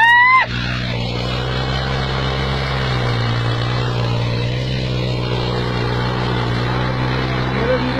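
A Massey Ferguson Tafe 9500 tractor pulls a cultivator (halla) through a field, its engine a steady, close, low droning hum with even harmonics that holds unbroken for the whole stretch.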